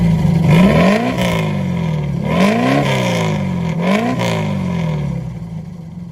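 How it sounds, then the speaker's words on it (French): A Puma 1600 GTE, the Brazilian sports car, is revved hard three times in a row, each climb in pitch loud and close, with the engine dropping back to idle between blips. "On est parti sans plus tarder pour les coups de gaz."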